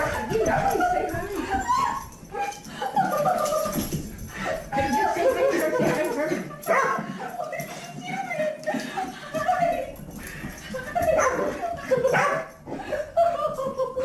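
A pet dog greets an astronaut returning from a 328-day stay on the ISS, with excited whines, yips and barks blending with happy human voices and laughter throughout.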